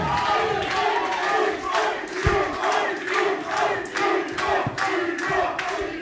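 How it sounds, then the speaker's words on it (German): Wrestling crowd at a live event applauding and cheering loudly for the referee, a dense steady roar of clapping and shouts with scattered sharp claps, no speech over it. "Applaus für den Referee in diesem Match"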